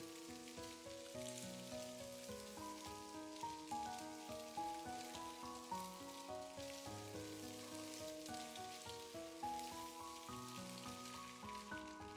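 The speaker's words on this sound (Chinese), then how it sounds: "然后再把火腿肠下锅煸炒，把火腿肠给它炒熟炒香" Ham sausage stir-fried in a hot wok with ginger and garlic, giving a steady, faint sizzle and crackle that runs unbroken throughout, with no voices over it.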